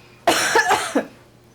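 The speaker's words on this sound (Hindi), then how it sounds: "एक और बार खांसो।" A single person coughs close up, a few rough bursts in quick succession, then quiet.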